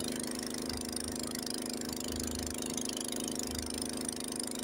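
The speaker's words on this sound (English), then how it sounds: "You can hear the engine. Oh, the engine's laboring a little bit." A Honda HS80 snowblower engine runs steadily while clearing snow in a Lake Tahoe snowstorm in 2024, laboring slightly under load, a continuous close droning hum with a faint pulsing underneath, no talk.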